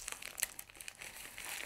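Soft plastic-wrapped parcel being pulled open, a close, quiet run of crinkling and tearing plastic with small sharp crackles and no talk.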